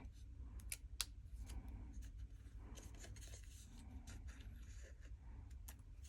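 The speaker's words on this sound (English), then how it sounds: "So we're going to kind of cut toward the inside of that score line. And then we're going to cut this little part off." Scissors snip through a small piece of cardstock while making a dual pop-up card, leaving a series of short, quiet, close cuts over a faint steady background hiss.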